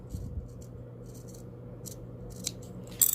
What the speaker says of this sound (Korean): 그다음에 요 중앙 부분 중심점 부분을 가위집을 주세요